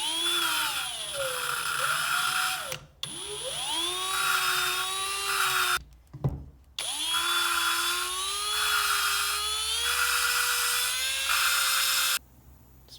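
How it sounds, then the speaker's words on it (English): A drill spins an exhaust valve, gripped by fuel line on its stem, to lap it in a Honda SL175 engine rebuild; a steady close whine that speeds up and slows in long runs, broken by brief stops. "hook a drill up to this and turn it with a"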